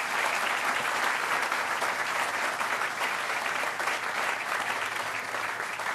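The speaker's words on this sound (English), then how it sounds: "Let's give him another round of applause." Sustained applause from an audience at a Hispanic Heritage Month celebration, loud, dense and steady for the whole stretch, with no voices standing out.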